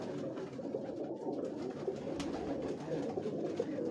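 Old-breed pigeons coo softly and continuously at close range, a low murmuring burble with a faint background hum and no talk.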